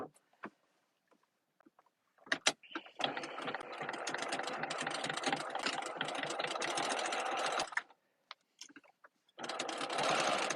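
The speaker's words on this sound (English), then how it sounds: "So let's go ahead and sew this one now." Sewing machine stitching a vinyl mesh tote bag, with a few clicks and then a loud, fast, continuous mechanical rattle that stops briefly and starts again, heard close up.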